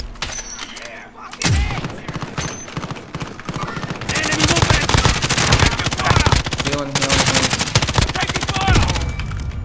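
Dense automatic gunfire in Call of Duty: Warzone, a sharp shot at the start followed by nearly continuous rapid bursts, loud and close, with a voice briefly audible underneath.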